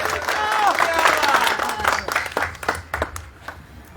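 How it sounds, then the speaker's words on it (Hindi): Audience clapping and cheering welcome a speaker at an outdoor street-corner election rally, a broad crowd wash that swells early and then thins into scattered claps, with voices mixed in. "जोरदार तालियों से इनका स्वागत करेंगे।"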